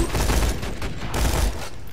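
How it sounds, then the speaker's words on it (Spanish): A deployed turret firing in Borderlands 2, a dense burst of loud, rapid gunfire with mechanical clatter, sustained across the moment and fading slightly at the end, with no voice heard. "¡desplegando torreta!"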